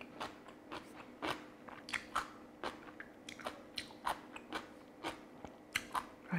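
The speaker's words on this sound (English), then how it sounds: "The one we made today is just bursting with extra crunchiness" Crunchy cucumber kimchi, stuffed oi-sobagi, is bitten and chewed close up. Crisp bites and crunches repeat steadily with no talking, quiet overall.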